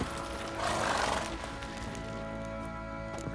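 A horse neighs in The Witcher 3, one drawn-out whinny rising over a steady ambient bed of tonal game music and background noise.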